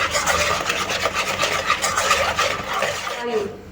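A spoon stirs egg mixture with sour cream, flour and potato starch in a bowl, making a continuous rhythmic rasping and scraping up close that fades out at the end.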